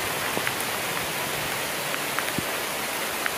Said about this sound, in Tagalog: Ayan, lakas po ng ulan dito.